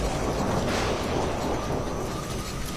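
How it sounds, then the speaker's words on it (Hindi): Steady roaring wind with a broad rumbling wash, continuous and loud throughout, like a storm gusting outside. "वहां एक भयंकर तूफान आ जाता है"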